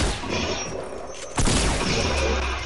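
Sniper rifle shot in a PS4 shooter game, one sharp loud crack cutting through steady background game noise and ringing out briefly afterward.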